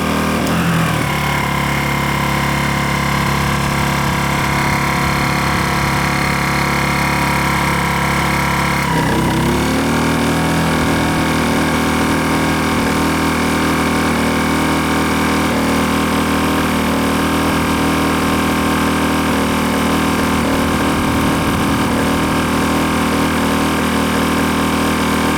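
A Zipper ZI-STE1000INV 1 kW inverter generator running with no load attached, a loud, close, steady engine drone with a brief dip and shift in pitch partway through before settling into an even hum.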